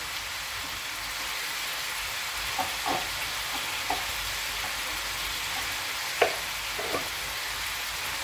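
Vegetables with fresh onion sauté in a pan with a steady, even sizzling hiss, broken by a few soft clinks of a utensil against the pan.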